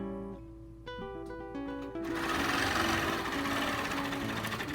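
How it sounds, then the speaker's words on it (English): Longarm quilting machine driven by ProStitcher, starting with whirring mechanical tones and then stitching at speed, a loud, steady rhythmic buzz and rattle with no speech. "So we're going to stitch this one with Pro Stitcher."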